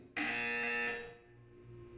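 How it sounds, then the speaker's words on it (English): A buzzer from the video game Portal 2 sounds as a single loud, sustained electronic buzz lasting under a second, then fades into a low background hum. "You will hear a buzzer."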